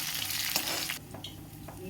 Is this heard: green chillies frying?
yes